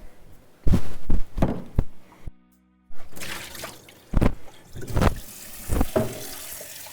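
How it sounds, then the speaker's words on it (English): Tap water runs at a kitchen sink as an espresso machine's milk carafe and water reservoir are rinsed, with splashing bursts, thunks of plastic parts, and a brief full silence midway. "We're going to take those over to the sink and give those a rinse and refill."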